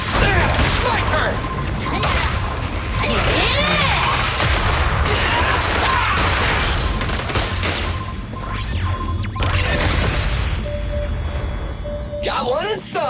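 Rapid gunfire and crashing impacts from the video game Zenless Zone Zero, dense bursts of shots and explosions running continuously and loudly while characters' voices speak over the action.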